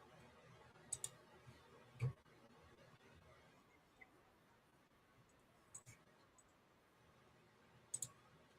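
Sharp, faint computer mouse clicks come in a few scattered singles and pairs against a quiet room background.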